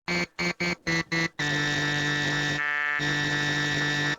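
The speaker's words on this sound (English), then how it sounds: "And this is a typical sync sound" A bright, buzzy synthesizer tone with harsh, tearing harmonics: five short stabs, then a long sustained note that briefly drops out and resumes.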